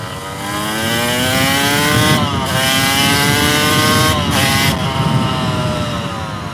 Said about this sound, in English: it's a motocross bike